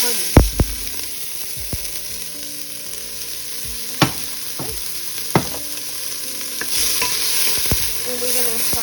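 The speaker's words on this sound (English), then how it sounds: "we're gonna saute the onion" Onion sautés in hot oil in a pan, a steady sizzle broken by a few distinct sharp scrapes and knocks of a utensil stirring against the pan.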